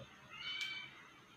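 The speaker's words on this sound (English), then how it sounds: "and that's my cat" A single drawn-out cat meow, fairly close and moderately loud, rising then fading over about a second against a quiet room.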